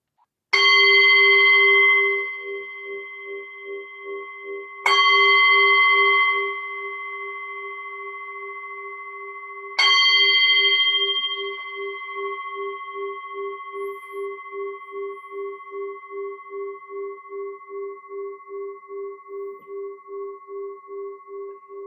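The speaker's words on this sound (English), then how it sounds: "So now I'll just ring the bell" A meditation bell is struck three times at even intervals, each strike a bright clear ring with a long shimmering, pulsing decay that fades slowly into quiet.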